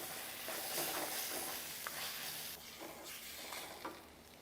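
A spoon scraping and stirring through thick crab masala in a sizzling pan, with a steady frying hiss and occasional soft clinks, close and fairly quiet.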